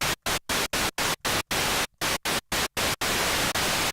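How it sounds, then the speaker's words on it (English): Bursts of hissing white noise from the noise generator of a basic subtractive synthesizer, gated on and off in about a dozen short pulses with gaps, then held longer at the end, loud and close. "We have a white noise generator."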